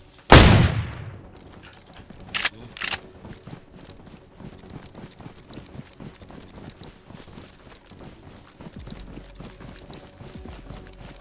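A sharp, loud gunshot in the game DayZ opens, followed shortly by a couple more quick blasts, then quieter shuffling and faint movement noises with no speech.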